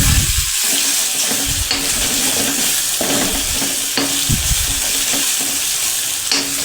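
Chillies for a Kathiyawadi gathiya curry fry in a pan, the steady sizzle broken by repeated scraping strokes of a spoon as they are stirred.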